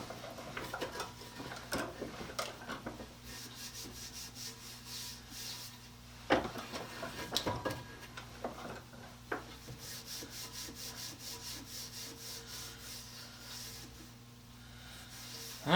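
Something being rubbed by hand around the outside of a band saw wheel during a rebuild, ahead of mounting the tire: soft, steady scrubbing strokes in bursts, close up, with a low hum beneath and no talking.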